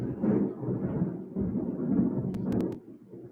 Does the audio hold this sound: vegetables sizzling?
no